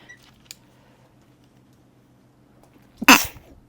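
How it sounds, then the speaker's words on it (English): A single sharp sneeze bursts out near the end after a few seconds of quiet room tone, loud and close. "Pardon my sneeze there."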